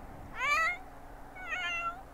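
A sick cat in The Sims 4 game gives two drawn-out, plaintive meows about a second apart, clear and fairly close over quiet background sound.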